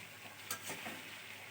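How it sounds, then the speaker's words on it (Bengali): Ash gourd pieces and chicken fry together in a pan, giving a soft continuous sizzle with a brief stir or scrape near the middle, fairly quiet and with no voices. "চাল কুমড়া আর মাংসগুলো আমি একসাথে ভেজে নেব।"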